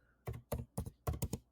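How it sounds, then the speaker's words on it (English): Computer keyboard typing a command into a Linux terminal: five quick, close clacky keystrokes in an uneven rhythm, with the last two in rapid succession, in a quiet room. "after typing this command in the terminal, you just press enter"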